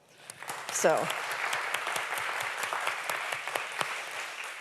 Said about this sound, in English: give ourselves a round of applause, and the RGS a round of applause